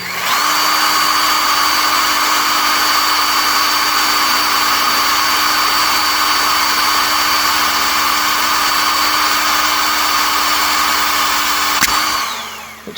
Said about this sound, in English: Okay, so I've got the right size drill bit in.